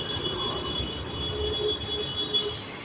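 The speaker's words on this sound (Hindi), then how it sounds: "देखो इसकी बस आ रही है" A school bus pulls up with a steady low rumble and a thin high whine or squeal from brakes or wheels, moderately distant, with no talk.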